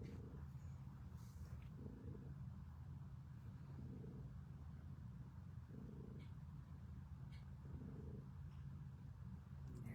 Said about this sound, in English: He's still just purring so hard.